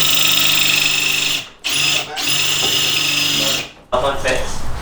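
A power tool whirs loudly in sustained bursts while removing bolts from the rear suspension of a Honda Civic, cutting out twice briefly before starting up again.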